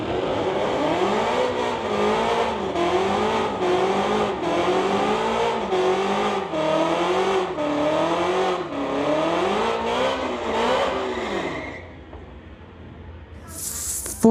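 A 1968 Pontiac and a 1984 Camaro in a street-legal drag race, their engines roaring loudly with pitch repeatedly climbing and dropping through the gears for about twelve seconds before quickly fading away.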